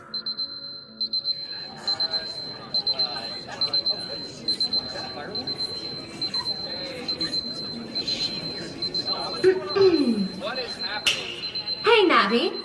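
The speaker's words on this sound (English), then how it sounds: "Hey, Navi, turn off the alarm, would ya?" In an anime scene, a steady high electronic alarm beeps in repeated short pulses that continue throughout, with voices talking over it.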